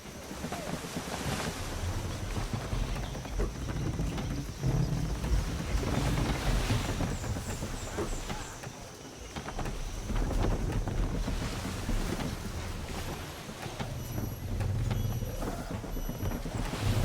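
A sailing ship under sail at sea in Assassin's Creed III: constant rushing wind and breaking waves against the hull, loud and continuous throughout, with no speech over it.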